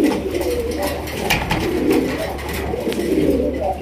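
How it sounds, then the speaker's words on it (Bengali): Sirazi pigeons of Lahori type, a deep red pair, coo steadily and close by, with soft repeated throaty calls over a faint background hum and no talk. "এখানে রয়েছে আরো এক জোড়া সিরাজি কবুতর লাহোরি গেটআপের"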